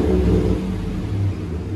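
A 2015 GMC Sierra Denali's 6.2L LS V8 revs through a dual exhaust with a Flowmaster Super 44 muffler, a loud, deep, close rumble that swells and holds for a moment.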